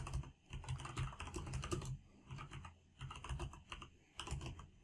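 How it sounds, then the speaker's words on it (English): Steady, rapid typing on a computer keyboard, close and fairly quiet, with continuous clicking broken by brief pauses between bursts and no talking. "Hit the tab key and I'll type in Tacoma."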